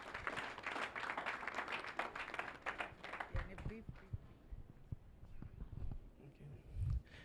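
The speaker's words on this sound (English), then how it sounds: "Please with a round of applause." Audience clapping at a university engineering faculty freshers' orientation, fairly faint, strongest at first and then thinning into scattered claps and shuffling.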